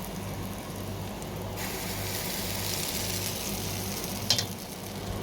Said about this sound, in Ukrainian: Тісто ось таке, ось таке. Так, і кладу на сковорідці.